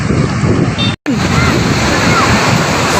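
Ocean waves wash onto a beach in a loud, continuous roar mixed with wind buffeting the microphone, broken once by a brief cutout.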